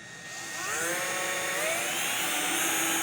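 A power drill whirs up to a high steady whine, its pitch shifting slightly as it bites through a body panel of a widebody Porsche 911, loud and close.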